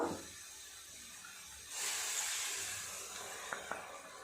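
Water from a rinsed spice bowl poured into frying masala, a soft hiss and splash that swells for a couple of seconds, then sizzles and fades, close and quiet with no talk.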